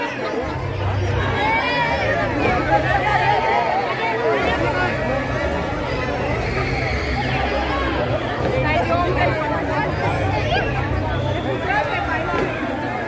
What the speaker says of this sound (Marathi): यासाठी फार मोठी गर्दी या पिंजर गल्लीत कसबा बावडा या ठिकाणी लागलेली आहे।